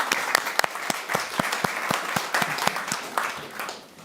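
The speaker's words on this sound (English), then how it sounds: "let's also clap for Frank Westerman." An audience keeps up dense, lively applause for a guest speaker in a lecture hall, with sharp individual claps standing out in the steady clapping and the sound thinning slightly toward the end.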